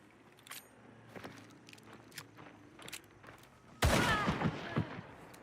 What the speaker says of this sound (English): Hear his mate's footsteps.